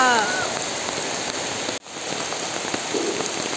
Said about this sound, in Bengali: এখানেই দেখুন কি ঝমঝমিয়ে বৃষ্টি নামলো রে বাবা